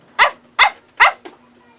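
Three sharp barks in quick succession, then a softer fourth, loud and close; a voice imitating a dog barking.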